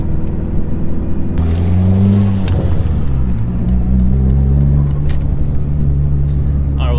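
Dodge SRT-4 accelerating on a road, engine note loud and close, rising in pitch through a pull with a gear change, under steady road rumble and cabin noise.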